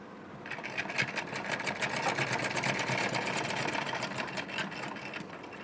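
A sewing machine stitches pleats into a blouse sleeve, running steadily and close for several seconds with a fast, even needle rattle and no talking.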